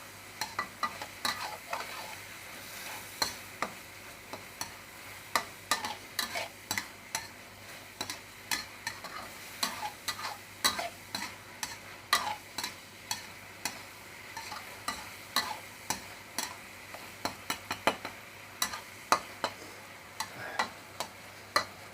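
Chicken with holy basil is stir-fried over high heat, a sizzle beneath repeated sharp clacks of a utensil scraping and tossing in the pan, steady and close throughout.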